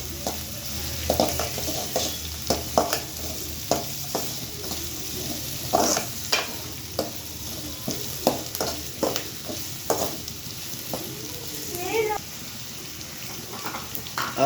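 Egg rice with curry frying in a pan: a constant sizzle with frequent clacking, scraping stirs of a spatula against the pan, close by, with brief speech in places.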